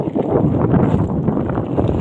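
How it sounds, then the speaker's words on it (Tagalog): Strong wind buffets the microphone with a loud, continuous rumbling roar and no voices. "Talagang malakas yung hangin."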